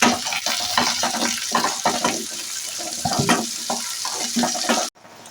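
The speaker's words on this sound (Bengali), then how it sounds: "এরপরে দিয়ে দিচ্ছি এখানে 2টো বড় সাইজের পেঁয়াজ কুচি" Two large chopped onions with a pinch of salt frying in a pan for a mutton curry, a loud sizzle broken by repeated scraping and stirring bursts, close up, ending abruptly.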